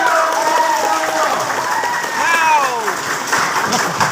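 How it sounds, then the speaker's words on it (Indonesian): A crowd at a village head candidates' debate in Hoha Wungo applauds the five candidates, steady clapping mixed with raised, cheering voices close by. "sekali lagi kita tepuk tangan untuk kelima calon"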